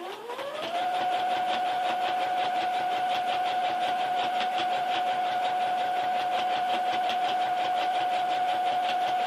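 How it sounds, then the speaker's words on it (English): A sewing machine stitching a pair of pants: the motor whines up to speed within the first second, then holds a steady, close tone with fast, even stitching ticks for several seconds. "So we're going to sew this part on now."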